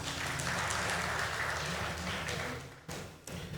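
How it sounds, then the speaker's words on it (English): A room of attendees at a development board retreat applauds the board's state representatives, a dense, steady spread of clapping that thins and fades out near the end. "I think they deserve a warmer round of applause."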